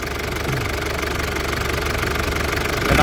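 A faulty diesel car engine revved to about 1500 rpm, running rough with a steady knocking, sputtering drone close to the microphone, rising slightly in level near the end.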